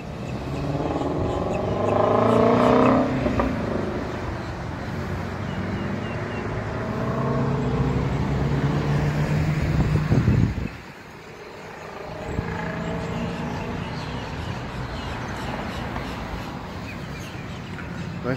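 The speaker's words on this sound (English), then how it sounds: "Nice sounding Shelby." A Ford Mustang Shelby at an outdoor Mustang cars-and-coffee meet gives a loud, rumbling engine run that builds and holds for about ten seconds, then cuts off abruptly, leaving lighter traffic and ambient noise behind.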